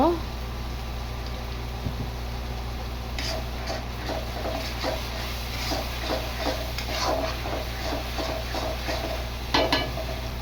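Mustard, chilli, onion and ginger-garlic paste with turmeric fry in a pan for a taro mash, giving a steady close sizzle broken by light tapping and stirring clicks throughout.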